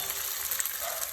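Potato pieces frying in oil in a wok for homemade french fries, a steady close bright sizzle with no break.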